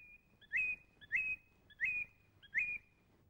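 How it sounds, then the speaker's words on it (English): Four evenly spaced whistled phrases, each a bright rising then level tone, repeat about every 0.7 seconds as a simple robin-song effect, clean and close with a quiet background. "Listen, I can hear a robin."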